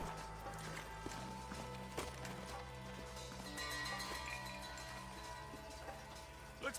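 Horse hooves clip-clop in the Red Dead video game, a quiet, steady gait of hoofbeats under a low droning game soundscape with faint occasional thumps.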